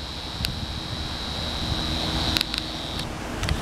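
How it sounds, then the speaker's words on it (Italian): A distant airplane engine drones faintly overhead under steady wind and a thin high whine, with no one speaking. "E l'altro è il rumore dell'aereo che l'ha sganciato."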